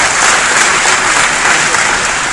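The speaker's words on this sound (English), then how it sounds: "Give yourselves another round of applause for that." Loud, dense applause from a large audience at a Google Developer Day event, a steady roar of clapping filling the whole moment.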